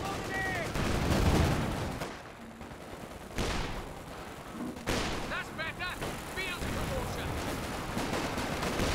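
Machine gun bursts and artillery-style booms in Company of Heroes 2, fairly distant battle noise with intermittent firing and some faint voices under the mix.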